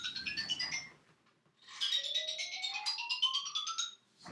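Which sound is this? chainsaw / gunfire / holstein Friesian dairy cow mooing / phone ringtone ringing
phone ringtone ringing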